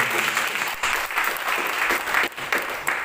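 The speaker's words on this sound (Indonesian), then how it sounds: "Tepuk tangan dulu yang terbaik." Church congregation clapping during a sermon, a lively, uneven burst of many hands with slight dips in intensity, heard fairly close in a room.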